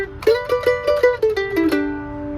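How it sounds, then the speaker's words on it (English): Guitar double stop lick: a quick series of plucked two-note dyads in a steady rhythm, sliding down to a final ringing pair that sustains and fades, played close and alone. "a good little general double stop lick is going to sound like this."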